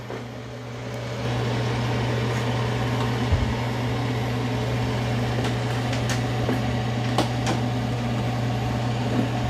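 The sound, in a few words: Roborock S8 robot vacuum dock emptying dustbin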